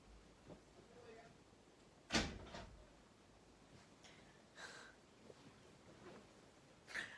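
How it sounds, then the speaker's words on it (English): A room door shuts with a single sharp thud, followed by fainter knocks and shuffling in a quiet indoor space. "I'm going to close the door real quick."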